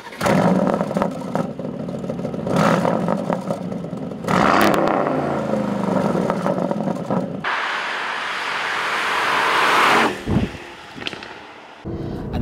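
A manual Aston Martin Vantage AMR's twin-turbo V8 on the road: the engine pulls and revs through gears, with a pause between runs, then a long rising surge, clattering shifts and cabin rumble, no talk.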